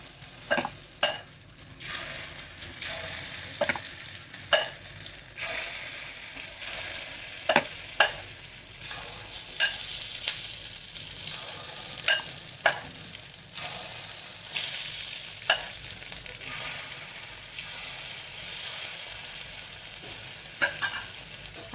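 Egg appe batter sizzles and crackles steadily in a hot appe pan, a continuous close frying hiss broken by scattered sharp pops and spatters, with no voices.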